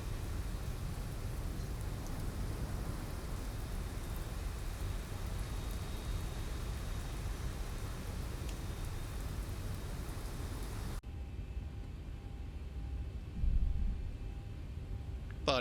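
Steady rain hisses and patters as weather in the X-Plane 12 flight simulator, heard around a Zibo 737-800 cockpit, a dense continuous wash that drops to a quieter, thinner texture near the end.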